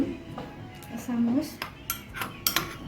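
A spoon knocks and scrapes against a bowl as yogurt goes in, giving a few short clinks and taps, close and fairly quiet, with faint room noise.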